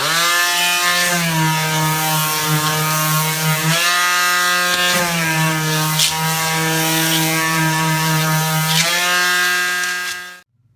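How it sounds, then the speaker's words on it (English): A small electric sander runs steadily with a loud buzzing motor whine on beverage cans, pitch wavering slightly as pressure changes, then cutting off at the end. "Next I'm going to sand my pieces. I find it better to do with an electric sander."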